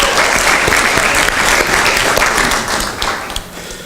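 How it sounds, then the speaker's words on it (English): Loud, dense crowd applause for volunteers at a literacy gala held at a museum, many hands clapping close together and thinning slightly near the end. "So, one more round of applause."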